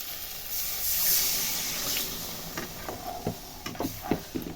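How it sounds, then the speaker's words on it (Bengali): Water poured into a pan of potato and egg curry with cauliflower, a steady close hiss and splash building for a couple of seconds, then fading into scattered sizzling pops and small bubbling ticks. "এবার তাহলে আমি এতে জল দিয়ে দিচ্ছি।"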